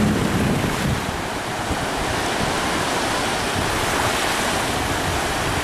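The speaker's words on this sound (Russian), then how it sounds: "На море очень ветрено." Strong wind and crashing sea waves on Dzintari beach in Latvia, a loud, steady roar of surf with gusty wind buffeting the microphone throughout, no voices.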